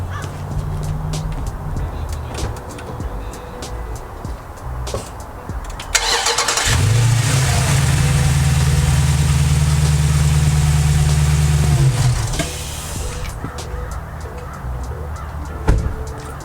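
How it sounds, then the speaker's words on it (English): Jeep SRT engine cranking and starting after an oil change, catching after a short crank and settling into a loud, steady idle for about six seconds before shutting off, with faint birds outside. "When you start it, it's going to make some funny noises."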